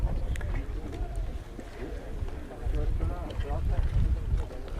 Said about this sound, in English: You can hear the wind shaking from the sailboats around us, of the sails.